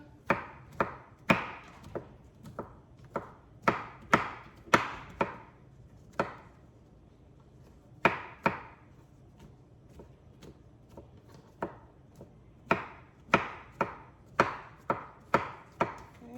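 Knife chopping mushrooms on a cutting board, sharp close thwacks in quick bursts and short runs with brief pauses between them, no talking.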